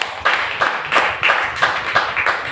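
A church congregation claps in unison during a sermon, a steady run of about seven loud, evenly spaced bursts of handclaps filling the room.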